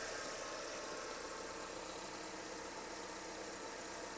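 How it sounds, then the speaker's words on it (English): A 1993 Proton 1.5 SE Aeroback (Saga Iswara) idles with a steady, even hum and light ticking, the engine note holding constant throughout without talk. "Engine ticking over."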